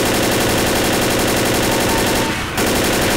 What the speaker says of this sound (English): I was shooting and you just ran in front of me.